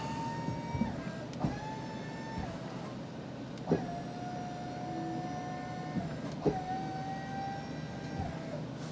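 A 2025 Ford F450 King Ranch with adjustable air suspension raises itself back up, giving a steady mechanical hum with a pitched motor whine, punctuated by several sharp clicks and thumps, fairly quiet and close.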